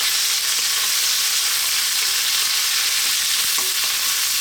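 Rib eye beef and garlic fry in a hot pan with a loud, dense, continuous sizzle, steady throughout without talk.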